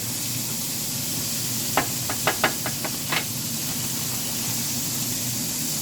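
A steady, dense sizzle of frying fills the whole stretch, broken by a handful of light metallic taps in the middle.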